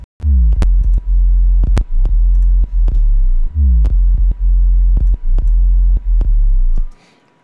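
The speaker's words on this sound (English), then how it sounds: "so now it just sounds like a sine wave." An FM8 synth bass patch reduced to a plain sine tone plays a loud, deep repeating pattern of sustained notes with sliding pitch drops and clicky attacks, ending in a short fade.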